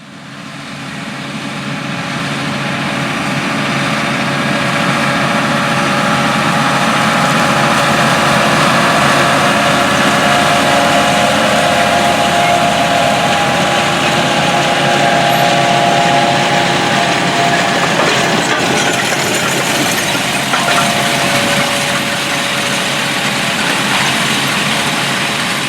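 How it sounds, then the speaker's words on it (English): A John Deere 8400R tractor pulling a DB60 47-row planter across a field drones steadily and loudly throughout, a constant low mechanical rumble with no voices. "the largest 8R tractor available from John Deere today planting the soybean crop"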